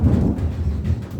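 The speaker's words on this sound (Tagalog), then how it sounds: "Lakas ng kulog." Loud thunder rolls as a deep continuous low rumble, heard alone and close for just over a second while vegetables with sardines are being cooked.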